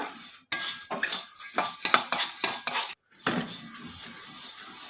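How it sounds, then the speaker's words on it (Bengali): Puffed rice being stirred continuously in a pan over a gas flame, with dense scraping and rattling of grains and utensil against the metal, repeated strokes in a steady rhythm, close and fairly loud, no talking. "এভাবে অনবরত কিন্তু নাড়তে হবে থেমে গেলে হবে না"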